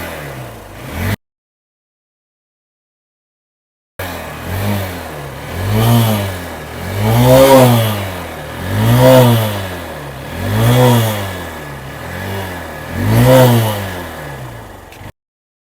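A bike engine, with carbon cleaner mixed into its petrol, runs loud and close, swelling through about six rhythmic revs after a brief dropout to silence.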